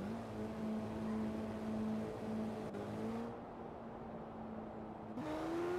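Lamborghini Murcielago LP670-4 SV engine in Forza Horizon 4 pulling away gently in first gear, a steady low drone that briefly dips and then rises in pitch, close and continuous with no talking.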